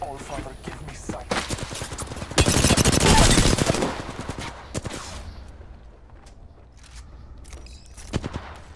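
Bursts of rapid gunfire from a shotgun-style weapon in the battle royale game Apex Legends, with a dense, loud volley in the middle and scattered shots before and after.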